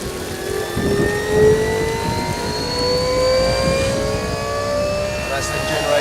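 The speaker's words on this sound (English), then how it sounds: "That's the generator, 24 volts." A 24-volt steam-driven generator, built for railway engines and fed by steam from the boiler, runs on a steam road engine at a vintage steam rally, giving a steady whine over engine rumble with voices nearby.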